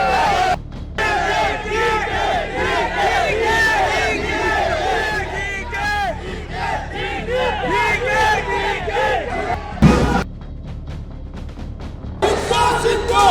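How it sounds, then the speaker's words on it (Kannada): Rival crowds of political supporters at Mangaluru airport shout slogans for Siddaramaiah and DK Shivakumar, a loud, dense chorus of rhythmic chanting and yelling that holds steady, with one brief pause before the chanting resumes. "ಒಂದು ಬಣ ಸಿಎಂ ಸಿದ್ದರಾಮಯ್ಯ ಪರ ಘೋಷಣೆಗೋಗ್ತಿದ್ರೆ ಮತ್ತೊಂದು ಬಣ ಡಿಕೆ ಶಿವಕುಮಾರ್ ಪರ ಜೈಕಾರ ಹಾಕ್ತಿದೆ."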